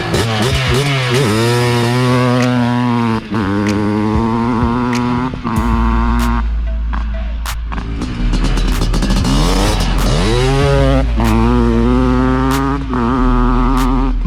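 A 1990 Honda CR500 two-stroke dirt bike revs loud and close, the rising engine whine climbing through the gears with shifts and a mid-clip dip, then a deep rumble building again to a high, raspy scream.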